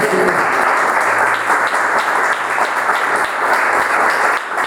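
Church congregation breaks into a round of applause, a steady wash of many hands clapping that holds evenly loud for several seconds with no talk over it.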